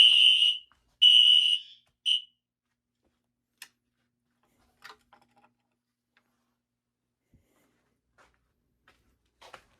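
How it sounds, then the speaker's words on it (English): A smoke detector blares three sharp, high-pitched beeps in a row, then falls silent except for a few faint clicks and taps. "Now, the smoke detector"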